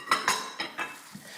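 Chapli kebab mince being mixed with egg in a bowl, producing several quick clinks and scrapes of utensil against the bowl in an uneven rhythm, close and moderately loud.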